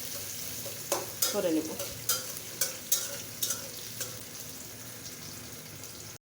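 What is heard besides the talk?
chopped onion and garlic frying in a pan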